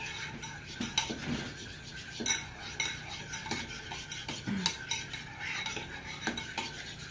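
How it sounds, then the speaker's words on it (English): Egg salad ingredients mixed in a bowl with a utensil, repeated scraping and clinking strokes in an uneven rhythm, close and moderately quiet with no talking. "we're going to go ahead and mix this up, and this is the base for your egg salad."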